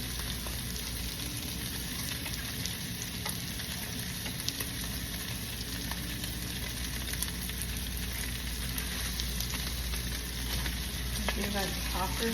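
Cabbage frying with bacon in a pan for Southern-style cabbage, a steady close sizzle that runs the whole time with soft stirring scrapes and no talking.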